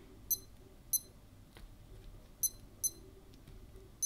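A Casio F91W digital watch alarm beeps in short, bright double chirps, repeating irregularly five times over a quiet background.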